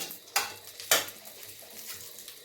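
Cumin seeds tempering in hot oil produce a soft sizzle in the pan, broken by two sharp scraping stirs early on, then a quieter crackle continuing to the end without any voices.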